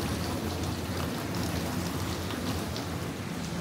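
Water pouring from a garden hose pushed down deep, a steady broadband hiss and splatter like heavy rain, fairly quiet and unbroken, no voices.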